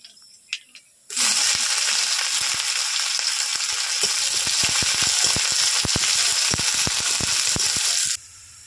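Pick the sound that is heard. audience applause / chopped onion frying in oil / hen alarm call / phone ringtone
chopped onion frying in oil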